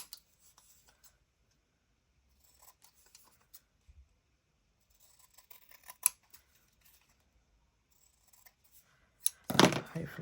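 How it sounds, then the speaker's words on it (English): Scissors snip through scrap paper to trim the rounded edges off long junk-journal cluster tabs, making a few quiet, scattered cuts and light paper rustles close by that end in one louder, longer cut. "cut off the rounded edges"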